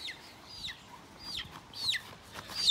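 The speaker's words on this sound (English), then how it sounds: "Oh, here comes a chicken." Chickens near a small homestead coop and run, giving several short, rising and falling clucks and squawks at close range, spaced irregularly over a quiet outdoor background.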